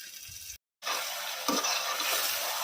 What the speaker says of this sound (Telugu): గోంగూర ఉడికాక అందులో చింతపండు రసం వేసి నూనె తేరేంత వరకు ఉడికించాలి